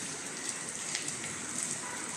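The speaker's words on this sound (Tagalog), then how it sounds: "Minsan lang magulan dito" Steady rain falling outdoors in the UAE, a soft, even hiss of drops on surfaces with occasional louder patters, fairly quiet and continuous throughout.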